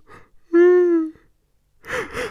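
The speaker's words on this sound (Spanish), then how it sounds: "Perdón por el pedazo de bostezo que me acabo de marcar" A person lets out a big, drawn-out vocal yawn lasting about half a second, loud and close, with brief breathy sounds before it and a short burst of speech-like breath afterward.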